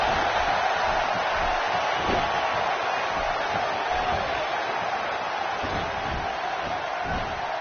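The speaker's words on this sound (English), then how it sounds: "by the sound of this crowd, I think they're getting what they wanted" A steady, hissing roar from an arena crowd in the wrestling video game WWE 2K16 fills the whole stretch evenly, with no clear talk over it.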